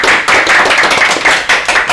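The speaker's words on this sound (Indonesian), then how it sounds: "Wah, tepuk tangan." Close, loud clapping greets good news at a busy angkringan food stall in Surabaya, in a series of quick bursts about a quarter-second apart.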